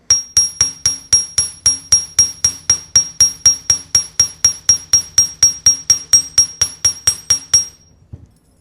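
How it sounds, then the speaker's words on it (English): A hammer strikes the end of a copper wire paddle in a brisk, steady rhythm, about thirty sharp ringing metallic taps in a row, close and clear, then stopping. "I'm going to hammer out the end of this paddle just a little bit more"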